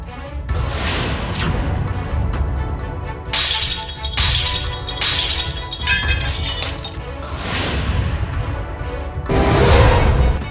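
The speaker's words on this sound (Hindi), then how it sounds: "जैसे तैसे पहले तो कृष्णा ने शीशा तोड़कर दरवाजा खोला" Glass is smashed to force open a door in a TV drama, with repeated loud shattering crashes and tinkling shards amid dramatic background music, with no talking.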